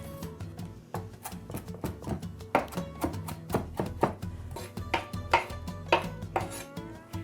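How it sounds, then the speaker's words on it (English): A knife chops fresh parsley on a cutting board for a panzanella salad, with steady, close, rhythmic taps repeating throughout and no voices. "now we're gonna chop up a little bit of this parsley"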